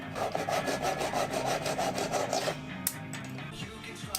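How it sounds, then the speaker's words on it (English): A fine-toothed Japanese pull saw rasps through wooden edge banding in quick, even flush-cutting strokes for a couple of seconds, then stops, leaving a few light knocks and handling sounds. "I flush cut the edge banding with my Japanese pull saw."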